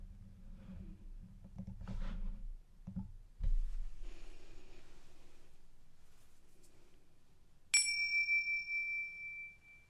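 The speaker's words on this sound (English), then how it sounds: "Our time of meditation will begin and end with the sound of these chimes." Meditation chimes strike once near the end of a quiet stretch, a clear bright ring that lingers and slowly fades, following softer rustling and knocking sounds.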